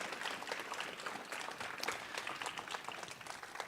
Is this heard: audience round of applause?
yes